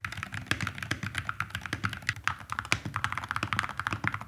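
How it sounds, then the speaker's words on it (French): Dense, rapid typing on a tape-modded mechanical keyboard with a muted, thocky tone, close and steady with no voices. "améliorer le son de votre clavier"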